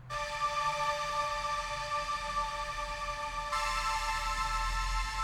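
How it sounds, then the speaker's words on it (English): A sustained synth pad in a drill beat holds a steady, bright chord and shifts to a new chord near the end. It is smooth and continuous, with no percussion. "I added some pad."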